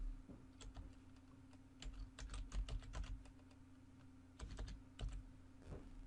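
Keys on a computer keyboard clatter in quick, irregular bursts while an email address and password are typed, faint and close with short pauses between runs of keystrokes.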